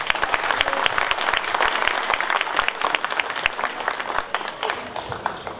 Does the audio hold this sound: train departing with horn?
no